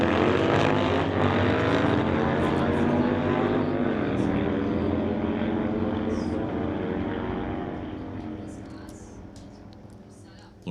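A drag racing motorcycle at a CMDRA bike drags event during hot laps, a loud sustained engine roar whose pitch sweeps as it accelerates away, then gradually fades into the distance.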